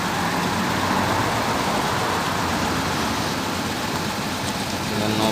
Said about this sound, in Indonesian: satu unit bus ALS masuk lagi teman.